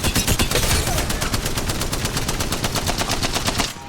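The Spitfire light machine gun in Apex Legends fires one long, rapid automatic burst, loud, dense and evenly paced, running for several seconds before cutting off abruptly.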